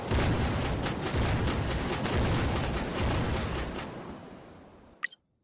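Artillery bombardment of Tokyo in the strategy game Conflict of Nations: a dense, continuous roar of overlapping booms and blasts, loud and sustained, ending abruptly in a short sharp burst before silence.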